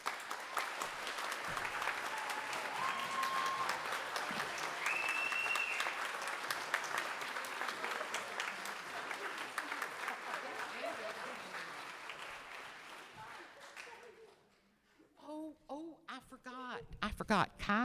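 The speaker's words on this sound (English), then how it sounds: "I'd like them to stand up and give them a round of applause" Audience at a high school band spring concert applauding tuba players, sustained dense clapping with a couple of brief whistle-like tones, fading out before a voice begins speaking near the end.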